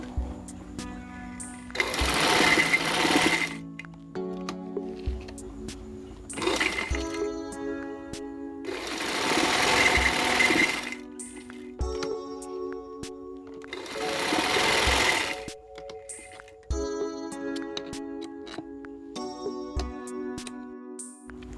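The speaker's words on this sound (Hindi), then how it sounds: "अब हम इसके ऊपर ये सिलाई लगाएंगे।" Sewing machine stitching fabric for a belt shalwar, several long whirring runs of rapid needle strokes separated by short pauses, close and steady, with no talk.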